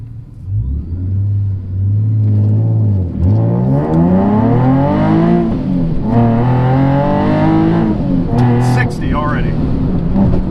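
A supercharged car launches on a loose surface and accelerates hard, its engine note climbing through rising revs with shifts between pulls, loud and close, with a person talking over parts of it.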